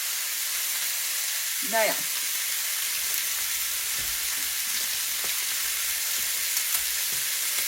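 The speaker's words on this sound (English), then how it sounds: "This is always another layer of flavor when you sear your meat." Meat sears in a hot pan for crockpot teriyaki ribs, a steady loud sizzle and hiss throughout, with one brief spoken word near the start.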